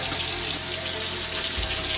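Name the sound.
washing hands under running tap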